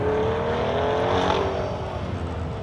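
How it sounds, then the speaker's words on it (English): A Corvette runs an autocross cone course at Beech Bend Raceway Park, its engine droning and shifting pitch as it accelerates and turns, heard from a distance amid steady ambient noise. "let's watch a Corvette"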